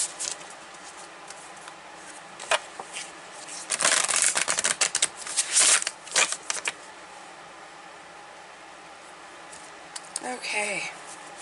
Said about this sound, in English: I'm going to start taking cards, and we're going to take a look at this.